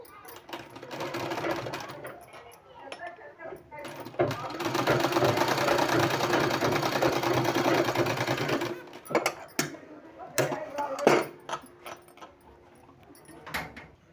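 Sewing machine stitching palazzo pants, running in bursts: a long steady whirring run in the middle, then shorter start-stop stitches, with quiet pauses between.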